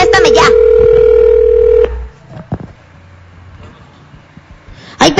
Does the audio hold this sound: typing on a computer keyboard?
no